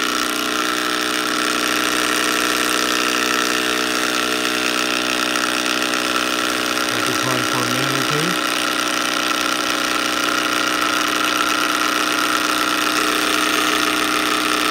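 A Robart hobby paint shaker runs steadily with a sealed paint bottle held on by a rubber band, giving a constant loud mechanical hum and rattling vibration from start to finish.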